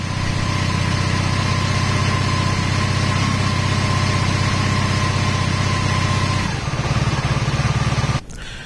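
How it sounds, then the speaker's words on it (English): A motorcycle engine running on a stand during a rectifier regulator test idles steadily and loudly, then the revs rise near the end before settling into a brief lower tone. "I'm going to raise the RPM a little bit."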